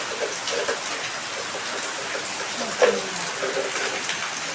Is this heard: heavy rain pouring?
yes